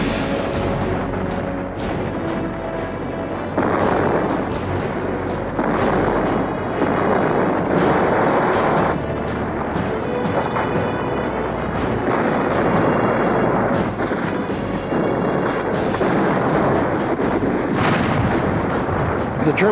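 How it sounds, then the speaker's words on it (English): Heavy WWII artillery shelling and gunfire near Anzio, Italy: loud, repeated booming blasts and crackling bursts follow one another almost without pause, dense and continuous throughout. "For 2 weeks, with heavy shelling and fighting, the armies fight it out."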